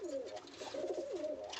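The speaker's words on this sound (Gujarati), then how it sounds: "ઉડાડેલા છે, મારા ઘરના કબૂતર છે" Domestic house pigeons coo in a soft, rolling series of low throaty calls, close to the microphone, with the bubbling phrases repeating steadily and no talking.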